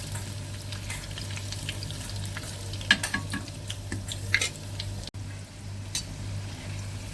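Vadas for dahi vada deep-frying in hot oil, a soft steady sizzle and bubbling with a few light clinks of a utensil, close but fairly quiet, with a brief dropout near the end.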